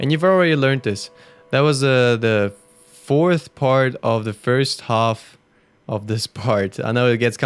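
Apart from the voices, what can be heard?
No everyday noises stand out.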